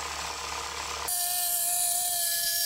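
A power saw bites into a piece of wood on a clamped workbench: a broadband mechanical buzz gives way about a second in to a loud, steady high-pitched whine with sharp tonal lines as the blade cuts, with no talking.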